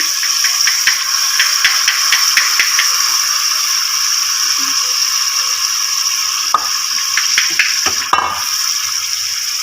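Hot tempering oil sizzles with a continuous crackling hiss as greens are added, punctuated by light clinks and scraping of a utensil in the pan.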